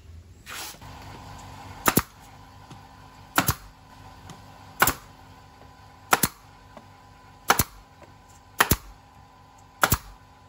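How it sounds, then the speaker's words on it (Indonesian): A nail gun drives nails into a wooden café chair seat, with seven sharp, loud shots spaced roughly every one to two seconds against a quiet workshop background. "Kita paku dari atas pakai paku tembak."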